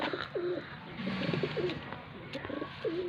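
Pigeons coo repeatedly in soft, rolling calls, several in quick succession against a quiet background hum.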